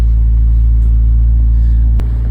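A McLaren sports car engine gives a loud, steady low rumble heard from inside the cabin, droning evenly with no clear rise in revs and a brief click near the end.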